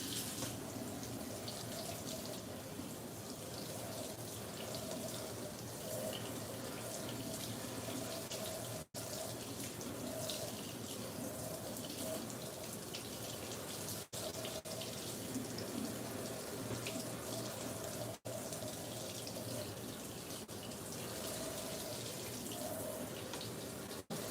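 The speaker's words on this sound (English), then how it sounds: "I guess I should probably rinse it off." A running kitchen tap pours steadily over tofu being rinsed, a continuous close hiss and splash of water lasting throughout with slight variations as the block is turned under the stream.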